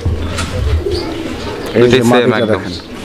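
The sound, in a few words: white racer pigeons cooing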